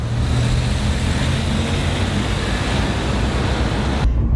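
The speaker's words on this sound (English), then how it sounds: "the car drives exceptionally well" A Maserati rental car cruises along a road, a steady broadband rumble of engine, tire and wind noise from inside the cabin, constant and loud before cutting off abruptly at the end.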